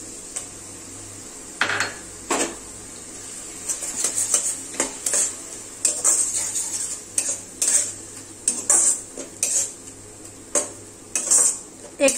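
Ginger, garlic and green chili paste being stirred in oil with fried onion paste, a spoon repeatedly scraping and clinking against the metal pan in uneven bursts over a faint low sizzle.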